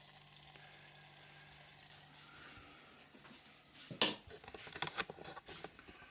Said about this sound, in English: So we can let that sizzle for a little while and let the flour cook